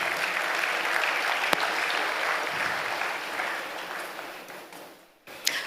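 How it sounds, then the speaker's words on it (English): Sustained audience applause at a Democracy Day dialogue event held by the Goodluck Jonathan Foundation, steady dense clapping filling the room for about five seconds before cutting off abruptly. "Please a round of applause for him."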